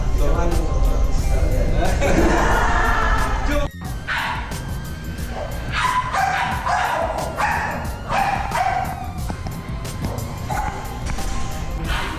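Bully-breed dogs bark and yip in a kennel setting, with repeated barks of varying loudness throughout and people talking in the background.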